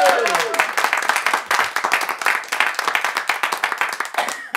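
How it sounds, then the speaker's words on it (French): Studio audience applauding and cheering on a Belgian morning radio show as a guest returns, a dense, sustained burst of clapping filling the room at close range, with a few voices mixed in at the start. "Sous vos applaudissements, Philippe Geluck revient"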